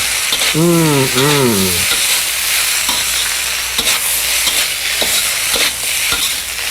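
Vegetables and rice sauté in a pan with a loud, steady sizzle and scraping stirs, opened by a short tonal whine near the start; no one speaks.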